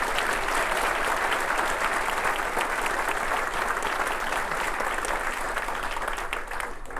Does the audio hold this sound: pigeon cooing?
no